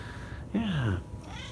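A house cat gives a single drawn-out meow with a falling pitch, close and clear over quiet room tone.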